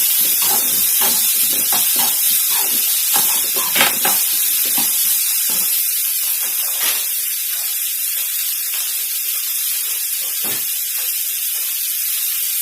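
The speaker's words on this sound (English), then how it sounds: "So I'm going to add curry leaves and coriander leaves. Roast the onions properly." Onions roast with curry leaves and coriander leaves in a hot pan for a South Indian dish, giving a continuous, even sizzle and hiss with scattered crackles and pops.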